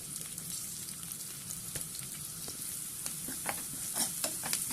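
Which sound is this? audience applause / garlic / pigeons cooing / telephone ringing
garlic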